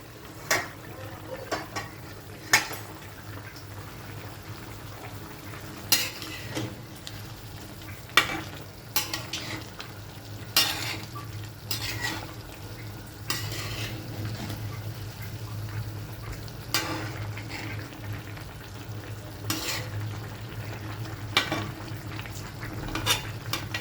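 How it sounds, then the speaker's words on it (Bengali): A curry of egg and potato comes to a boil in a pot, giving a low steady bubbling hiss broken by repeated sharp clinks and scrapes of a spoon against the pot, close and without voices. "আমার তরকারিতে বলক চলে এসেছে"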